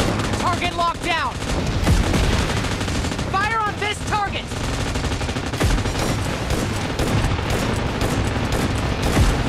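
Rapid automatic gunfire in the PUBG Mobile team deathmatch mode, loud and dense through the whole span, with bursts of shots piling over one another and brief chirpy electronic sounds near the start.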